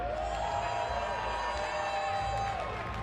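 A crowd at a Halo esports championship event cheers and whoops steadily, a dense and continuous roar heard at moderate distance under faint commentary.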